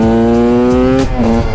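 A moped engine revs steadily and loudly close by while warming up for a wheelie, its pitch holding mostly level with a brief dip near the end.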